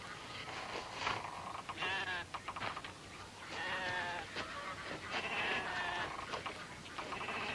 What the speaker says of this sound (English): Now these are sheep, boy. Nothing but dumb sheep.